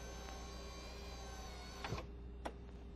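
The power window motor of a 2003-2010 VW New Beetle Convertible raises the rear side window on its regulator with a steady, close mechanical whir. A couple of sharp clicks are heard near the end.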